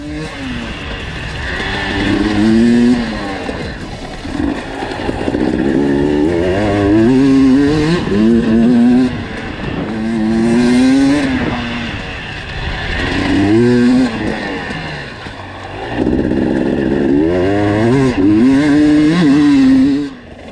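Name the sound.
motorcycles riding on a dirt track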